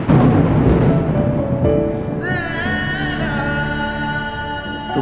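Steady rain falls with a deep rumble of thunder, heard close and fairly loud as a background wash while music-like tones rise over it.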